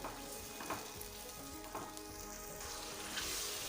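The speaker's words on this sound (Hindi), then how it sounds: "टमाटर शामिल करते हैं। टमाटर को अच्छी तरह से पका लेते हैं।" Tomatoes cooking with light-brown fried onions in oil for chicken kachnar: a soft, fairly quiet steady sizzle with a few stirring scrapes, swelling into a brighter hiss near the end, with no voices.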